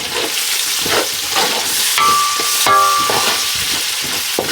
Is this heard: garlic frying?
yes